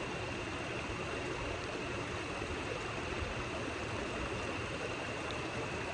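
River water rushing over rocks at a strong November flow, a steady, dense roar with no pauses, loud and close throughout.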